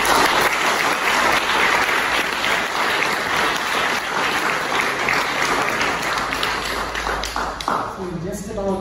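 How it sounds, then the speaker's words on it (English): Sustained, loud applause from a lecture-hall audience thanking a speaker after a satellite communication talk, dense and even for several seconds before tapering as a voice begins near the end. "Give it a big round of applause."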